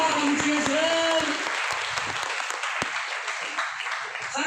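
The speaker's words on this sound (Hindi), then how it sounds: "ताली बजा के बताइए सर" Audience applause in a hall during a motivational talk, a sustained loud wash of many hands clapping, with a voice heard briefly at the start.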